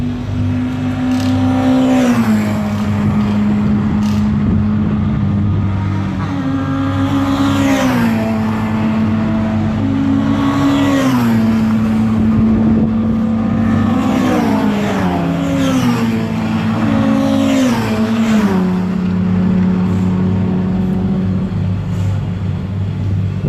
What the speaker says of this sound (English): Let's move around and see if we can get the cars coming along the straight